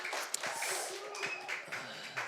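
A children's church congregation claps together at an Easter Sunday service, steady applause lasting a couple of seconds with scattered louder claps.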